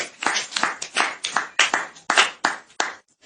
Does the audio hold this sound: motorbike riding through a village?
no